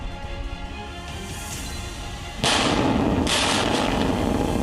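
A sudden loud tunnel-blasting explosion about halfway through, at 11,500 feet in the Himalayas at the Zojila Tunnel, followed by a second burst and a rumbling, echoing roar that sustains to the end over steady background noise.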